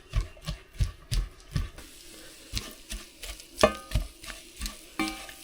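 Eggs being stirred and mixed in a cast iron pan, giving a series of rhythmic scraping and tapping strokes about every half second, fairly close, with a soft sizzle underneath and no talking.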